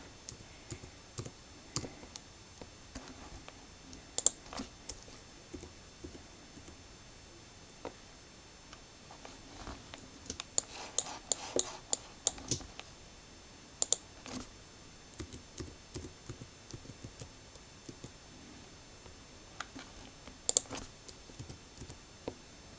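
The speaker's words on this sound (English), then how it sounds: "I'm just using my arrow keys on my keyboard to move my node" Arrow keys on a computer keyboard are tapped in quiet, scattered clicks, sometimes singly and sometimes in quick bursts, close and faint against near silence.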